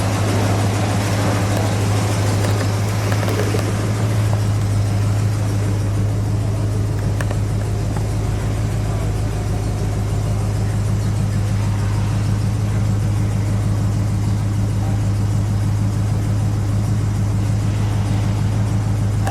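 A 1969 Dodge Charger Daytona in Hemi Orange with a 440 engine idles steadily nearby, a deep continuous low rumble holding even throughout with no talking.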